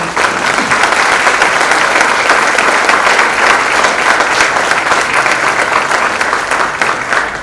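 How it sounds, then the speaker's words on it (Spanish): A conference audience at a public relations research event gives sustained, loud applause for Colombia, dense even clapping from many hands throughout that tapers slightly at the end. "Vamos a darle un aplauso a Colombia"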